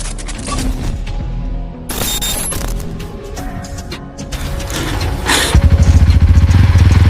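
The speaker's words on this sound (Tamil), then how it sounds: "நம்ம பைக்கை யாரோ ஸ்டார்ட் பண்ண ட்ரை பண்றாங்க டி" A thief tries to start a motorcycle: clattering mechanical noises and knocks, then the engine catches into a loud, close, rapidly throbbing idle for the final seconds.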